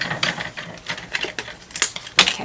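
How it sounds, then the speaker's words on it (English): A Crafters Companion Diamond Press die-cutting machine is cranked by hand, giving a close series of irregular mechanical clicks and ratcheting clacks, some sharper and louder than others, with no speech. "push it through until you can't go any farther, and then crank it through"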